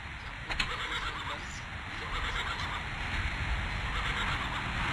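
A horse whinnies in the video game Harap Alb over a steady, noisy background hiss, with no talking.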